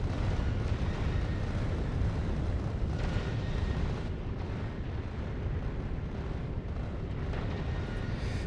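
Rockets annihilating incoming threats in Factorio: Space Age, a dense, continuous roar of overlapping explosions and booming blasts that stays loud and steady throughout without pause.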